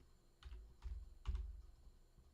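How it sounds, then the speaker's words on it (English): A few soft keystrokes on a computer keyboard, three or four separate muted taps spaced about half a second apart, quiet and close over a low background hum. "I'm just typing convention."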